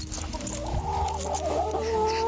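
Hens cluck and chatter steadily at close range in a farmyard, with overlapping soft calls over a constant background and no talk.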